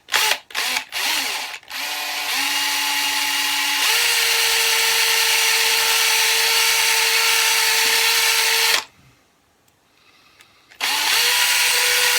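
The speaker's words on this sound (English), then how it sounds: "So we're probably going to need a smaller drill bit for that." A power drill whines close up, drilling into a 1972 Matchbox Superfast die-cast toy car, starting with a few short bursts, then running steadily at a rising pitch, pausing briefly, and starting again.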